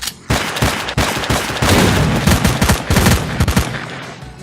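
Submachine gun in the S.T.A.L.K.E.R.: Clear Sky game firing repeated short bursts, loud and close, several clusters of rapid shots with brief gaps between them.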